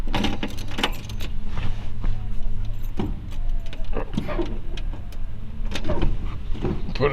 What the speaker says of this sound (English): I'm gonna grab the keys